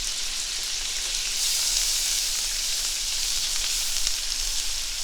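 Butter and a little olive oil sizzle steadily in a hot pan, a continuous bright crackling hiss holding at even loudness throughout, close and alone with no voices.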